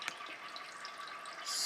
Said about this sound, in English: There's one thing here though that is a little bit strange, which is the oven here in the living room. It sounds kind of like a water fountain.